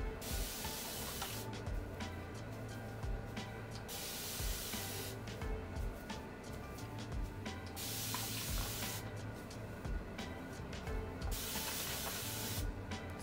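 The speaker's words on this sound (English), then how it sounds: "So I just spray and distribute the water." A spray bottle mists water onto curly hair in repeated bursts, each a sharp hiss lasting a second or two, separated by short pauses of quieter rustling.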